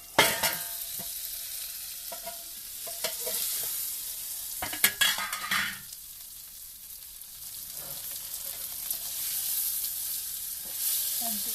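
Small fish fry in a pan at home, a soft continuous sizzle broken by several clattering bursts of stirring and scraping against the pan, close and fairly quiet.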